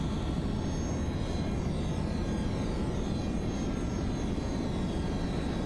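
A Falcon 50 business jet climbs after takeoff in a flight simulator game, its engines giving a steady, broadband roar that holds without change, with no talk heard.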